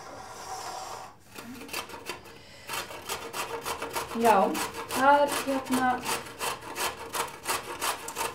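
Turnip and carrot are grated by hand, a rapid series of rhythmic rasping strokes up close that grows steadier and louder after a short pause, with brief Icelandic talk over the start.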